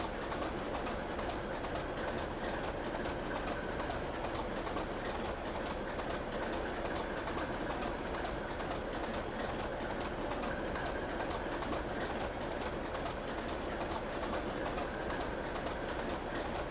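A steam locomotive rolls on rails on the Keighley and Worth Valley Railway in Train Simulator Classic, a steady rhythmic clickety-clack and rumble under a faint hiss, with light bird calls in the background.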